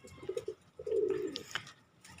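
Pigeons in a loft cooing softly, a few low rolling coos in quick succession followed by a longer drawn-out coo, faint and close with light background noise.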